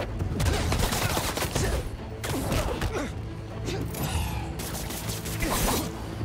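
Gunfire in the video game Marvel's Spider-Man 2 during an attack on an outpost: dense, continuous bursts of shots with mechanical clatter and whooshes, loud and sustained throughout.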